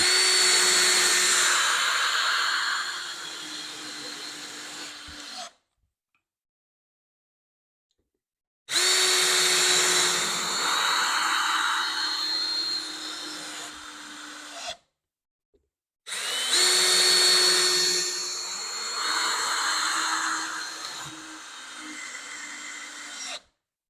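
A Ryobi power drill driving screws into wood, three long bursts of loud whirring separated by short silences, each run steady then slowing slightly as the screw seats.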